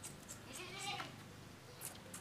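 A four-month-old Indonesian Etawah goat kid bleats faintly, one short wavering call in a quiet outdoor setting, with soft background noise and a few light clicks.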